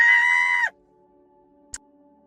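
A voice lets out a loud, drawn-out screech imitating an animal, lasting about half a second before cutting off, followed by silence and a single brief click.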